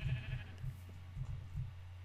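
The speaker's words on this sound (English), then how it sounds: "Sheep, what are you doing up in the tree?" Sheep in Minecraft bleating in a run of short, repeated, nasal calls, about four or five bleats over a couple of seconds, fairly close and clear with no talking over them.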